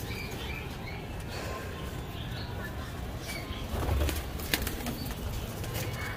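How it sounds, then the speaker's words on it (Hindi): Domestic pigeons released from a net enclosure flutter and flap their wings with scattered soft coos and chirps, a close, busy rustle against steady outdoor background noise. "जैसे ही मैंने अपनी कुछ कबूतरों को खोला है ना, अभी हमारे जो जाल के कबूतर हैं वो भी बाहर आने के लिए एकदम से उतावले हो रहे हैं।"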